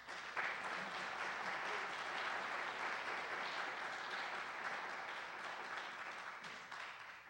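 An audience claps steadily to welcome photographer Zoe Strauss at a talk on presenting and caring for contemporary photographs, a dense sustained round of applause in a hall that tapers slightly at the end.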